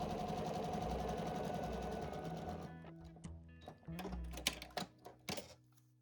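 A sewing machine runs a short continuous seam through fabric on a paper foundation for quilt piecing, a close steady whir for a few seconds that stops, followed by scattered clicks and handling taps.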